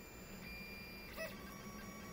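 A Tevo Tornado 3D printer runs its first print quietly, a faint steady whir of stepper motors with soft tonal whines and a brief louder movement midway, no talking.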